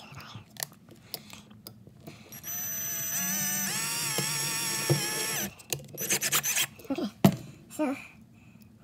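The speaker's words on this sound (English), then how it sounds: "we're going to drill some holes" A small power drill whines steadily for a few seconds as it bores holes through a thin metal Copenhagen can lid, with rustling, clicking handling noises before and after and speech nearby.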